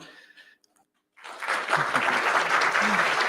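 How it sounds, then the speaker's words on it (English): A round of applause at a startup accelerator demo day for AI cybersecurity teams swells in after a brief quiet pause and holds steady and full, with faint talk before it. "please join me in a round of applause for every team that presented today"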